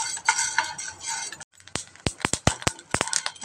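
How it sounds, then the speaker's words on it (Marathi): A utensil stirs sorghum grains in a hot pan as they begin to pop, producing close, sharp clinks and ticks in an irregular rhythm after a brief pause, with no talk. "असं कंटिन्यू हलवत राहायचं."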